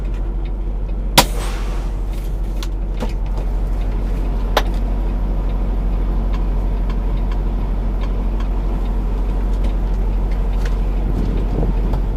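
A tractor-trailer truck pulling out of a Walmart distribution center in Colton, California gives a low, steady diesel rumble from inside the cab, with a sharp click and a few knocks early on, and no one talking.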